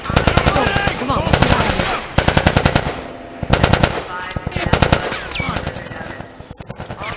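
Rapid bursts of automatic gunfire from The Last of Us game crackle loudly and close in several long volleys, separated by brief pauses, with a shouted voice briefly heard between shots.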